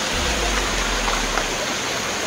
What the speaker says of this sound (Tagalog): Malaking hose, tapos may tumatagas na tubig.